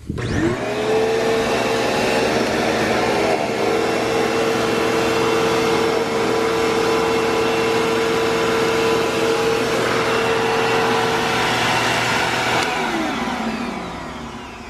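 A vacuum cleaner with weak suction whirs up, runs with a steady close hum for several seconds, then winds down as it switches off.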